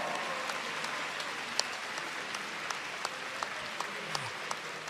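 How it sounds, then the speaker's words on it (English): An arena crowd at the Pokémon UNITE World Championships applauds world champions Luminosity Gaming with a sustained wash of clapping and a few sharper claps standing out, steady and without talk. "Can we get one more big round of applause for your world champions, Luminosity Gaming?"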